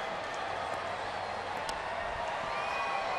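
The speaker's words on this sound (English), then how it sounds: "Good Friday night crowd." Steady murmur of a large baseball stadium crowd on a Friday night during a New York Mets at Houston Astros game, a broad continuous wash of distant voices with no distinct calls or claps standing out.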